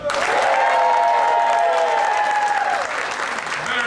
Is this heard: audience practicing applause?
yes